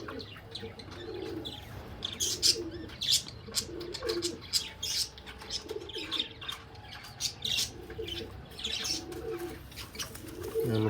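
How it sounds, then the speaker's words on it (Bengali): Pigeons coo in a loft, repeated low rolling calls mixed with sharp chirps and some wing flutter, moderately close and steady throughout. "এটা 3 নম্বর পায়রা"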